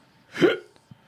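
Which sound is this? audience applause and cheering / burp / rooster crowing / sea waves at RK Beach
burp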